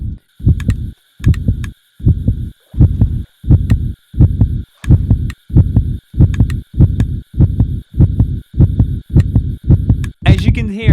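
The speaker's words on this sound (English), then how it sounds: "As you can hear, my heartbeat is going insane." A racing heartbeat from a horror game, booming in a steady, fast double-thump rhythm of about fifteen loud, close beats over a faint high hum, cut off at the end by a sudden harsh burst.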